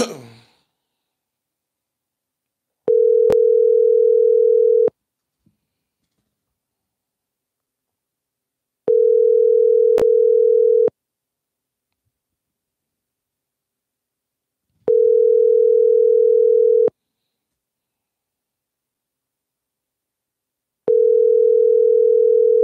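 Telephone tone heard while placing a prank call: a steady single-pitch beep repeats in long, evenly spaced pulses about every six seconds, loud and clear with silence between the pulses.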